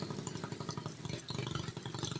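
A motorcycle engine running nearby, a steady pulsing mid-pitched putter with rhythmic exhaust beats throughout, fairly loud and without voices over it.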